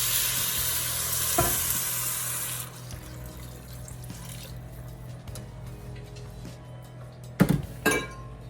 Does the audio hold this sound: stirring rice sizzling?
yes